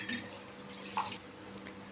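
Rice for aloo pulao being washed by hand in a vessel of water gives brief close splashing and sloshing, a few short swishes and a trickle, with no talking.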